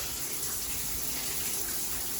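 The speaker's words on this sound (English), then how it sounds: "you can hear the shower's running" Running water from a tiled shower, a steady even hiss of spray heard from a short distance, constant and unbroken with no talk.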